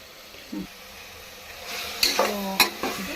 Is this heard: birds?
no